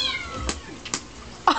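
A cat gives a few short, soft squeaks and chirps, close and fairly quiet, with brief pauses between them and no talking.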